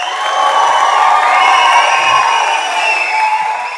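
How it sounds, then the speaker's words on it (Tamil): An audience at a film audio and trailer launch for Kalaga Thalaivan cheers and claps loudly for a guest, a continuous roar with shouts and whoops rising over it. "இந்த அரங்கமே அதிர மாதிரி நம்ம உதய் சாருக்கு நல்ல ஒரு கரகோஷம் கொடுங்க"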